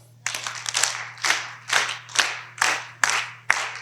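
A group claps hands together during a Simon Says game, about eight sharp, fairly even claps of many hands in a row, close and clear with no talking over them.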